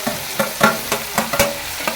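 Chopped capsicum and vegetables sizzle in oil left from frying chicken, with a spatula scraping through the pan in about seven quick, regular strokes over a steady hiss.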